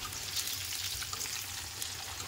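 Potato pieces sizzle steadily in hot oil, already mostly fried, a loud, even crackling hiss with no voices.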